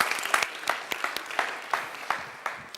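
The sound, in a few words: audience applause for a speaker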